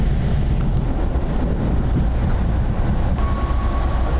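A passenger train pulls into Gupo station, a steady low rumble of wheels and carriages filling the whole stretch, with a faint brief tone near the end.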